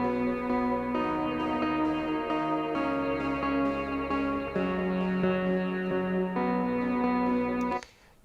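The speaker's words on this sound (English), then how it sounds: "Next up we have the synth bed." A sustained synthesizer pad holds layered, shimmering chords that shift every second or so, ringing steadily before cutting off abruptly near the end.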